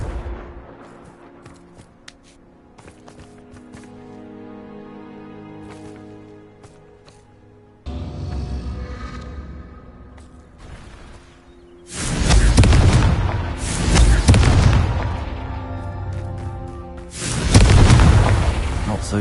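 Repeated Confringo spell blasts in Hogwarts Legacy: after a quieter stretch of game ambience with small clicks and pops, several heavy booming explosions land close and loud, the biggest clustered in the second half, with a final strong blast near the end.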